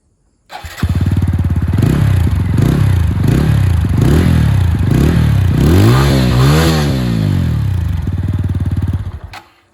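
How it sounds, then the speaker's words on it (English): A TVS Apache 200 4V motorcycle, a 200cc bike, idles with a steady thumping exhaust note, then blips the throttle in repeated short revs before a couple of longer rising and falling revs, close and loud throughout. "Let's check out how the Apache 200 4V sounds like."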